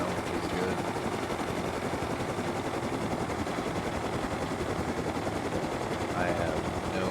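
A video game helicopter gives off a continuous dense rotor and engine roar that holds steady and fairly loud, with a voice talking over it.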